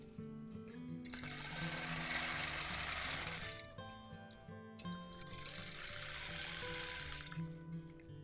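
A quilting machine hums through crosshatch ruler work on a quilt in two long, continuous runs with a short pause between them, close and steady.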